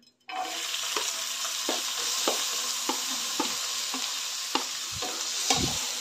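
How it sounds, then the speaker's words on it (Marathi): Onion and tomato sizzle and fry in a small amount of oil in a pan while being stirred, with a steady crackle and periodic scraping strokes close by. "त्यानंतर कांदा आणि टोमॅटो ह्यामध्ये आपण भाजून घेऊया।"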